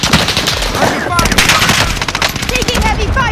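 Heavy automatic gunfire in a Call of Duty match, dense rapid bursts filling the whole stretch at close range, with game voices calling out over the shooting.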